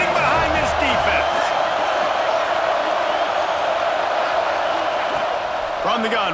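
Stadium crowd roaring in the video game College Football 26 during a big third-down defensive stand in the red zone, a loud, steady wall of cheering that runs throughout with a brief whoop near the start.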